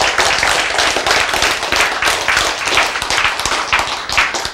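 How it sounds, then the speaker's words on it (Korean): An audience claps hands in a lecture hall, a dense continuous burst of many overlapping claps, loud and close, lasting several seconds. "박수!"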